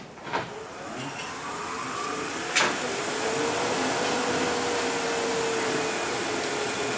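Wood lathe spinning a turning blank at around 2,000 RPM, a steady loud mechanical whir with a rising tone and a couple of brief knocks near the start.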